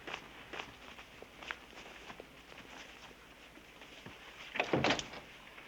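Indoors, a few soft footsteps and small handling knocks lead up to a louder door opening near the end, clattering briefly before settling; no voices.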